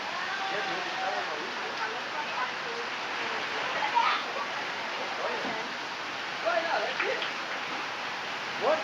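Steady rain shower at a grandparents' house, an even hiss of falling water continuing throughout with faint patters, while voices talk quietly in the background.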